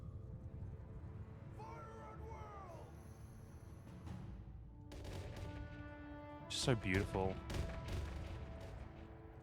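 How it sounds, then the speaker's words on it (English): Gunpowder hand cannons in Mount & Blade II: Bannerlord boom in a ragged volley in the second half, loud sharp blasts after a stretch of quieter battle noise, with someone speaking briefly over them. "I could probably watch like a full episode of just a full like a series of just the hand cannons going off"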